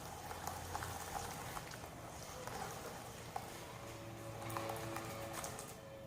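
Sugar melting in a pan bubbles and boils with a steady low hiss and faint pops throughout, with no talking.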